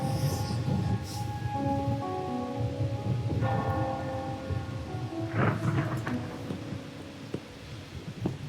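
Rain pours steadily in a scene in the video game Wuthering Waves, set in Raguna, while low thunder rolls beneath it, with a few tonal chimes layered over the storm throughout.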